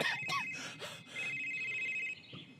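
A telephone rings in the video game Someday You'll Return, a faint electronic trill repeating under murmured talk and rustling.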